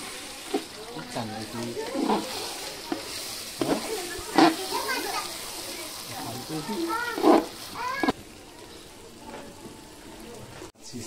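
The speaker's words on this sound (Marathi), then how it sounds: "सगळं मिक्स करून घेऊया।" Chicken biryani being stirred and mixed in a cooking pot, with scraping and sizzling at a moderate level under frequent talk from people nearby.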